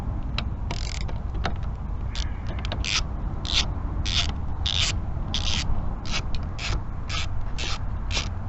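A T30 Torx bit turns a fastener on the boost pipe of a VW MK5 GTI, giving repeated short ratcheting clicks and scraping bursts in an irregular rhythm, close and fairly loud, with no speech.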